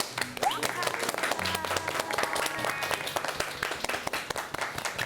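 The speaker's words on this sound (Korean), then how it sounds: "감사의 박수와 합작 한번 갈까요" A crowd applauding steadily in thanks to a Buddhist monk teacher at the end of a sutra class, dense clapping from many hands with some voices mixed in.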